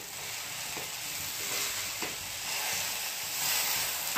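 Shredded sweet potato roasting in ghee in a hot pan, giving a soft, steady sizzle and hiss with a few faint stirring scrapes, close and without speech.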